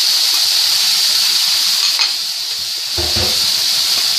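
Peppers, onions and mushrooms sizzle loudly in a hot pan with a steady, close frying hiss, and a brief burst of stirring or added vegetables comes at about the three-second mark.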